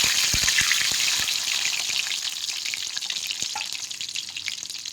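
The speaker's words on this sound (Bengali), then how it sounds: "অল্প অল্প ভেজে নেবো।" Duck eggs fry lightly in a hot pan, giving a bright continuous sizzle that opens loud and a little crackly, then settles into a steadier, slightly fainter hiss.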